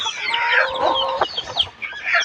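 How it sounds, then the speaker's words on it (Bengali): Desi chickens clucking close by in short, uneven bursts of busy cackling calls, with no voices over them. "আমরা দেশি মুরগি পালন করার চেষ্টা করবো"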